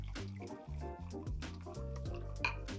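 Bourbon, Yellow Rose brand, pours into a measure in a run of close, faint liquid drips and trickles broken by a few short pauses.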